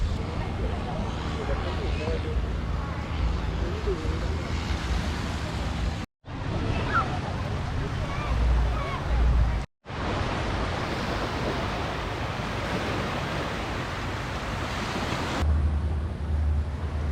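Waves wash onto the beach at Poda Island, a steady broad surf roar mixed with wind rumble and cut by two brief silences. It stays fairly loud throughout, and no voices stand out.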